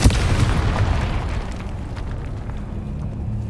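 A fire spell explosion in the video game Hogwarts Legacy bursts with a sudden loud boom that rolls off into a long, fading rumble.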